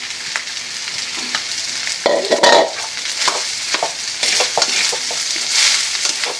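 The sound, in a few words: stirring fried rice with egg in a pan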